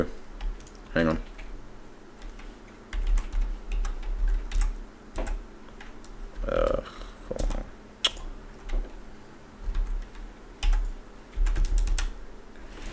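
Computer keyboard typed with the left hand only, irregular clusters of sharp clicks and taps, close and fairly loud, with pauses between bursts and low background hum.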